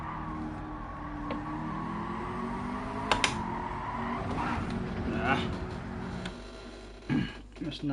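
A McLaren race car in Gran Turismo 7 revs with rising engine tones and sharp gear shifts, the pitch climbing and dropping across several changes while a voice talks over it.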